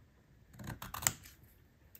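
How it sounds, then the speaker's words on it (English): Scissors cutting paper for a junk journal: a quiet cluster of crisp snips and paper crunching near the middle of a soft, close background, with one sharper click among them. "I will cut it so I have a half an inch on the bottom"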